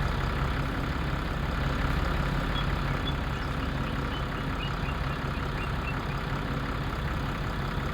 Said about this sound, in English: I'm gonna enjoy the sound of this tractor tremendously